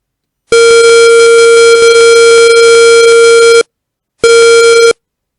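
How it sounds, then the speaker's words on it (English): A computer program's electronic alert beep sounds loud and steady: one long unbroken tone of about three seconds, a short silence, then a second, shorter tone of the same pitch, with no voices. "the alert beep beep is sounding"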